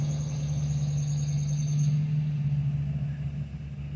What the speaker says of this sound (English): Lots of cars and trucks starting to roll in.